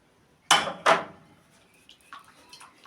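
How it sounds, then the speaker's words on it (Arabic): A utensil stirring an egg and vanilla mixture in a bowl: two loud clanks against the bowl, then lighter, scattered clinks. "ونقلب كويس لحد ما البيض يختفي"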